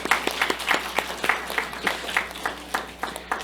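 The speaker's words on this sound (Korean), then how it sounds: "우리 가장들 힘내라고 박수 한번 해주겠습니다." A church congregation claps together during a sermon in a steady rhythmic beat, moderately loud and even from start to finish, with no voices over it.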